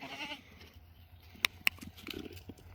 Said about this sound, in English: Yeah, you bouncing goats.